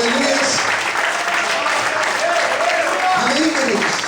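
A church congregation applauds during a sermon, a dense burst of clapping heard throughout with a voice calling out over it.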